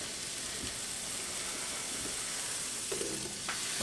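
Ham sizzling in a pan with butter, a steady close crackling fry with a few brief clinks and stirring sounds, no talking.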